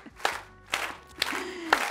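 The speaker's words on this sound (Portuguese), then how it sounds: "Tô adorando essas palmas." During a cooking show on imperial dogfish, a few people clap in a slow, even rhythm, about four distinct claps spaced half a second apart, fairly quiet, with a faint voice sounding in between.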